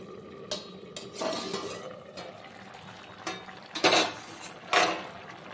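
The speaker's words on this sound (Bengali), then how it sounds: "সুন্দর করে জল দিয়ে নেড়ে চেড়ে ঢাকা চাপা দিয়ে দিলাম।" Vegetables for a Malabar spinach and lentil-dumpling dish are stirred in water with scraping and splashing in a metal pot, then a lid clanks down, with several sharp close knocks.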